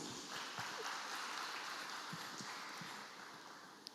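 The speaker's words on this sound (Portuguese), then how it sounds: "Você pode aplaudir o Rei dos Reis?" A church congregation applauds at a family celebration service, a steady wash of clapping from many hands that fills the room evenly and tapers slightly toward the end.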